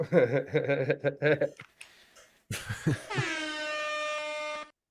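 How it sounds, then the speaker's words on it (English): A loud, sustained air horn blast rings out after bursts of laughing voices, holding steady for about two seconds before cutting off. "Late air horn on that one."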